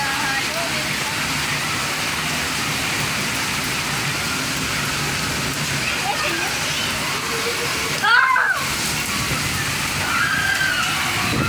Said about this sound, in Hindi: बारिश अब बहुत तेज़ हो चुकी है।